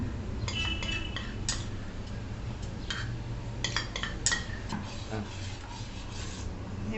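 A spoon stirs rose essence into a watermelon milkshake, quiet repeated scraping and clinking strokes against the vessel in an uneven rhythm over a low background hum.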